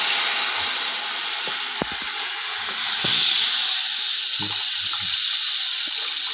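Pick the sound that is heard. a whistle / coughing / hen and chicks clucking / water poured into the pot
water poured into the pot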